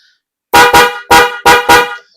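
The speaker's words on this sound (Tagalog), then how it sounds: "ganyan po yung tunog ng ating snail horn" Five loud, blaring blasts from a motorcycle snail horn powered by a 12-volt battery, in two quick pairs and a final single, each a rich harmonic tone, close and alone after brief silence.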